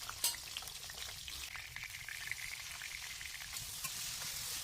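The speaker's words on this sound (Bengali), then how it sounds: "কড়াইয়ে তেল দিয়ে আলুগুলো ভেজে নেব।" Potatoes frying in hot oil in a wok make a dense, even hiss with faint crackles and occasional stirring, close and steady without any voices.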